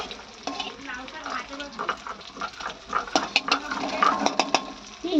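Leafy greens, bottle gourd and spinach for a Bengali chorchori, stirred in a pan over tempering spices, with soft sizzling under clattering utensil scrapes and knocks that grow busier toward the end; a voice talks faintly in the background.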